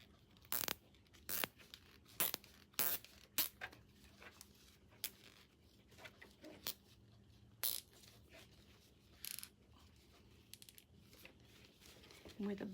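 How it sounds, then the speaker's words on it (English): A zip tie being tightened makes a series of sharp, brief ratcheting zips, irregularly spaced and close by, with faint background noise between them. "I'm just using a zip tie here."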